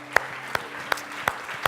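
Slow, regular claps sound in a church service, about five evenly spaced sharp hits over a steady background hum.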